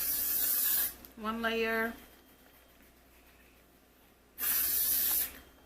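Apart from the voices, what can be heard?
spraying Got2b hair spray onto a wig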